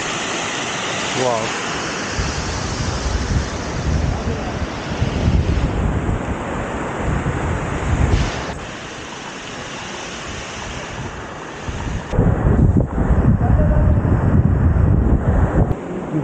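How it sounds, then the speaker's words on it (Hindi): Water pours from above onto a Shiva idol at Anjani Mahadev mountain temple, a steady broad rushing splash that holds throughout and swells louder near the end, with a brief spoken exclamation over it. "डायरेक्ट ऊपर से पानी आ रहा है और भोलेनाथ के सिर पे भाई।"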